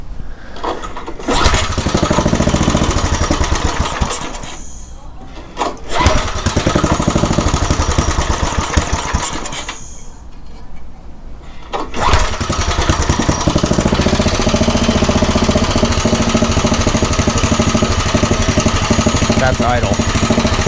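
A Craftsman rototiller engine with its air filter off runs loudly nearby, its steady chugging idle dipping briefly twice before settling back into a constant drone, with talk in between.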